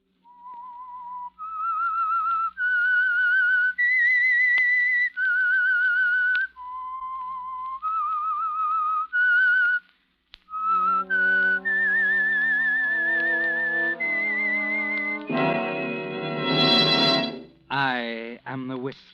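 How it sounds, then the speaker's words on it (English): A lone whistler carries a slow, eerie melody, the theme tune of the old radio mystery drama The Whistler, each held note gliding to the next. It ends with a final flourish of higher, brighter tones and a rising bend. "That whistle is your signal for the Signal Oil Program"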